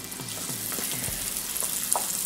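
Chopped onions frying in butter in a kadai, a constant close sizzle with a few light stirring knocks, moderately loud with no voices.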